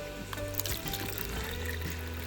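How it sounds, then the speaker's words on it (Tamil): Water is poured into a measuring cup for an Instant Pot vegetable pulao, making a soft, continuous trickle heard faintly under steady kitchen background noise. "நம்ம ரைஸ் மெஷர் பண்ணாதே கப்பில் வாட்டர் மெஷர் பண்ணலாம்"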